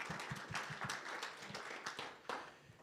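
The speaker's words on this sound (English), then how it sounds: "just have a round of applause for every one of us for those particular insights" A small audience at a report launch gives a faint, brief round of applause with scattered claps heard from a distance.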